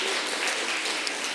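A church congregation applauds, a brief, even wash of many hands clapping together, dense and steady at moderate loudness.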